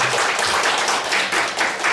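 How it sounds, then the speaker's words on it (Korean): An audience at a Buddhist monk's book launch claps steadily in a continuous patter of many hands throughout. "박수 부탁드립니다."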